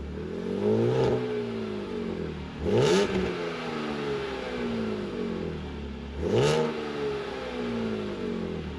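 A BMW Z4M Coupe's engine revving hard three times in short bursts, each rising and falling against a steady idle close by, with no one speaking.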